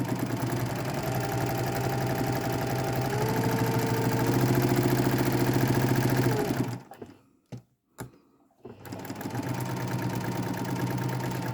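A sewing machine stitches a quilt block with a fast, steady mechanical whir that runs without a break, cuts out briefly with a few clicks of handling, then starts up again at the same pace.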